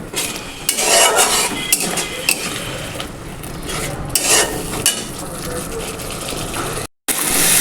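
Spice masala being sautéed in a pan for an egg curry with raw green banana, with steady scraping and clinking of the spatula against the pan over a continuous sizzle, fairly close and loud.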